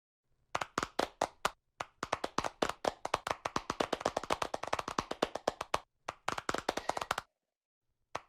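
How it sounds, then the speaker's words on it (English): A small audience at an academic symposium on human-centric artificial intelligence claps for the organizers, sharp individual claps in clear bursts separated by short silent gaps, fairly close and uncluttered. "One round of applause for all of them."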